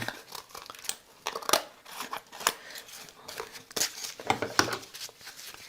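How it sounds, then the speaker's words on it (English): Scissors snip repeatedly through cardboard, a series of sharp crisp cuts with papery crinkling in between, close by and fairly quiet. "I'm going to trim this with some scissors, just so it looks a little nicer"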